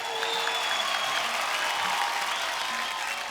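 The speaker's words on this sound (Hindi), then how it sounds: "एक बार जोरदार तालियां हंगामा 2 की सुपर टैलेंटेड कास्ट के लिए।" A studio audience on a TV comedy talk show applauds in an unbroken, uniform wash of clapping that stays loud and even from start to finish.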